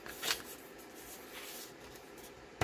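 Scored paper sheets are folded by hand for a folio: a couple of quick, crisp paper rustles and creases, close and fairly faint, separated by a quiet pause.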